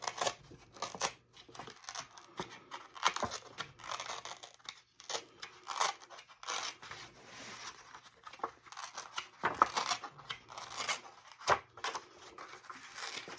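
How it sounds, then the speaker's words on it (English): Paper torn slowly by hand to make a torn edge for a junk journal, with close, dry ripping and crinkling in short uneven bursts and no talking. "So I'm going to continue to tear this."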